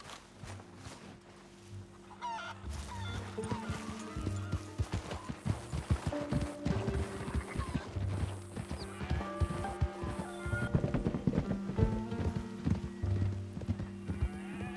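Horse hooves clip-clopping in Red Dead Redemption 2, a steady, fairly close run of hoof beats with occasional snorts and tack rattle over a soft outdoor bed and faint background music.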